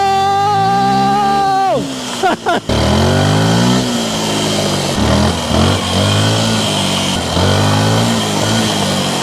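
Yamaha dirt bike engine revving hard at full throttle, loud and close, with rising and falling pitch sweeps, a brief cut around two seconds, then sustained high revs with repeated throttle surges.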